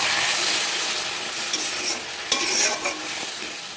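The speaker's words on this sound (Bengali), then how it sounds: "মশলার বাকি ধুয়ে রাখা জল দিয়ে ভালো করে কষিয়ে নেব" Paneer masala spices are stir-fried in a pan with a little water, making a close, busy sizzle broken by scraping stirs and small clicks of the utensil over a few seconds.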